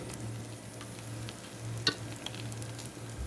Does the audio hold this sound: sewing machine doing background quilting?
no